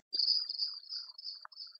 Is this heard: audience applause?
no